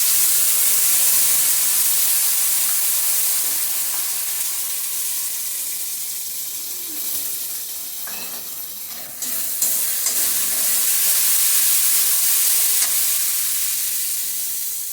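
Ground spices hit hot oil for a potato and jackfruit seed curry, giving a loud, steady close-up sizzle and hiss that lasts throughout, with faint stirring noises partway through.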